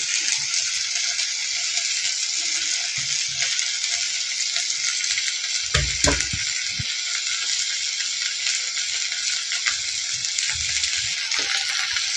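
Ingredients sautéing in a pan for Kumbakonam kadappa, a steady soft sizzle running throughout with a brief clatter of stirring near the middle.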